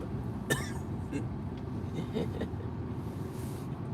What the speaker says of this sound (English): Did not expect that cough to come out.